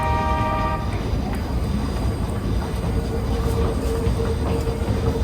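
A New York City 7 subway train riding along, with a steady, loud rumble of wheels and car noise running throughout, a faint high whine above it and a brief tonal hum partway through.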